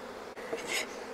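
Honeybees buzz as a steady, close hum with no talk over it while the lid sits off the second box of an opened hive. The colony has just returned from almond pollination in California.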